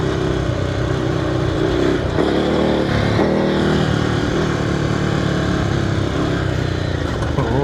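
A Ducati Scrambler motorcycle rides over bumps on a muddy trail, its engine droning loud and close with shifting pitch and jolts as the bike crosses uneven ground.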